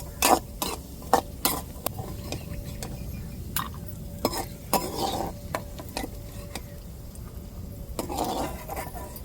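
Cashews sizzling as they fry in a pan for milk payasam, with a steady crackling hiss under repeated sharp scrapes and clinks of a spoon stirring against the metal, close and fairly loud.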